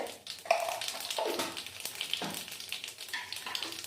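Two dried chillies and nigella seeds hit hot oil left over from frying katla fish, giving a close, steady crackling sizzle with a few sharper pops and stirring scrapes, no voices.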